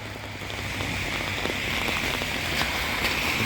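Steady rain falls on surfaces outdoors, a soft, even patter with scattered louder drops throughout.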